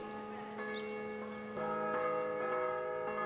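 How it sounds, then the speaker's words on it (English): Several church bells of different sizes across a town in Gozo, Malta, ring together in overlapping harmony, sustained tones layering as more bells join, resonant and moderately distant. "Bells of different sizes throughout the town start ringing with it in beautiful harmony."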